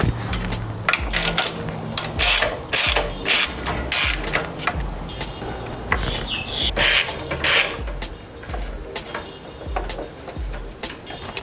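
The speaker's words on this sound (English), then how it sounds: "we've got 2 bolts here going to the turbo, so we'll undo those" A ratchet undoes the turbo bolts on a 2008-2014 Subaru WRX in a run of quick clicking bursts with short pauses and metallic clinks between them, close and fairly loud.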